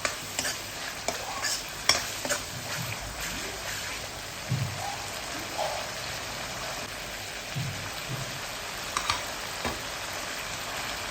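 Vinegar being stirred into paneer fried rice in a pan, with a steady close sizzle under scattered scraping clicks of the spatula against the pan throughout.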